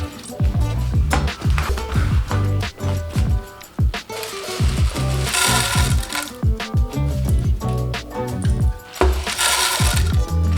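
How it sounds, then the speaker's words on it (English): A blender grinds melon seeds into powder, giving loud, pulsing bursts of whirring with rattling and clattering as the seeds are thrown about, stopping and starting several times. "I'm gonna blend these. It's gonna be blended into like a powder."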